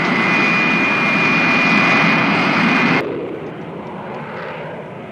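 An airplane engine roars loud and steady in a sustained jet-like rush with a high whine, then cuts abruptly to a quieter, fading rumble as it climbs away.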